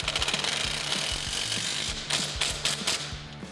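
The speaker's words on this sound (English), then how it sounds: "So we're gonna tighten this small bolt first." A ratchet with a 9/16 socket clicks in quick rhythmic bursts while tightening a small suspension bolt on a 2018 Jeep Wrangler JL lift kit install, close and crisp, with brief pauses between strokes.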